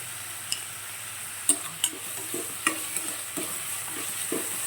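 Onions with curry leaves and a pinch of salt sautéing in a pan after fennel seeds, a low steady sizzle broken by several distinct scraping stirs of a spoon, close and fairly quiet with no talking.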